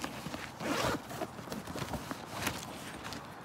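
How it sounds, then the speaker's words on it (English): A clothing zipper, likely on a golf bag pocket, is zipped shut in a couple of quick rasping pulls close by, with faint rustling around it. "Nope, zip it back up."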